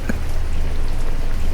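Stormy night rain in a horror animation comes as a loud, dense, unbroken wash, with a short tonal blip at the very start.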